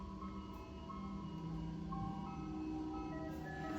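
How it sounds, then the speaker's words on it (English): An ice cream truck's tinkling jingle plays faintly under a steady low engine hum, as if heard from inside late at night. "Every time I hear the Ice Cream Truck song"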